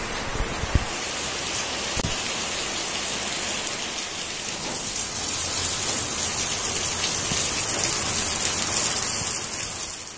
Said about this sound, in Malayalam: പിന്നെയും പിന്നെയും നല്ല മഴയായിരുന്നു.